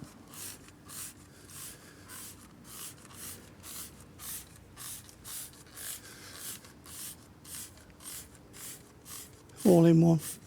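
Adams tyre and wheel cleaner sprayed onto a tyre and wheel in a series of short, regular hissing bursts, close and fairly steady, with a louder sound near the end.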